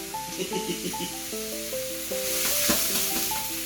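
Pierogies fry in a hot pan, giving a steady, close hiss and sizzle that runs the whole time beneath soft background music, with no talk.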